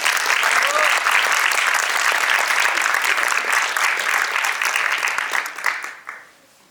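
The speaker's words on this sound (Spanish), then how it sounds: "Para que pido un fuerte aplauso, por favor." A loud, dense burst of applause fills the room at a book launch presentation, sustained for several seconds before tapering off quickly at the end.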